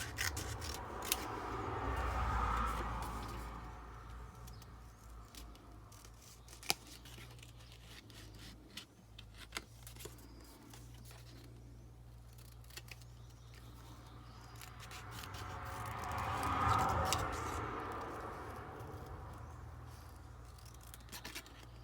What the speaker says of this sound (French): je vais prendre le bleu et je vais découper mon petit ticket